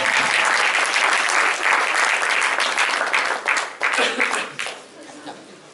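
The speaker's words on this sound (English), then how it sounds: "Please give a big clap." An audience at a Rudram workshop in Hamilton breaks into loud applause, thick and sustained at first, then tapering off into scattered claps with some chatter and light laughter mixed in.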